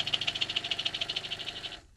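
A store-bought Halloween toy rattlesnake decoration buzzes with a quick, even rattle of about a dozen pulses that fades near the end, heard close and with no voices.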